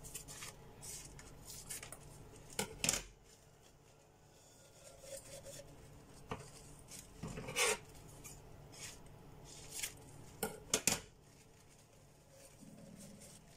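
Quiet rasping and crinkling as a green tea bag is torn open and its leaves shaken into a jar, with a few sharper rustles and taps scattered over several seconds.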